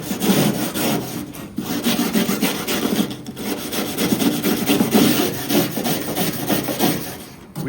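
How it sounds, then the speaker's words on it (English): Bristle brush scrubbing rust treatment into a 1984 C10 truck door, a close, continuous rasping rub with rhythmic back-and-forth strokes and a couple of brief pauses. "We'll use this bristle brush just to kind of brush it in there"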